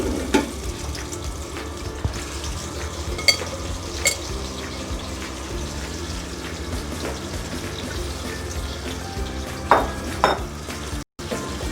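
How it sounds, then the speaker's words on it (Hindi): Onions frying in about one and a half cups of hot oil in a pot give a continuous close sizzle, with stirring scrapes and a few sharp clunks and no talking. "अब हम इसमें प्याज ऐड करते हैं"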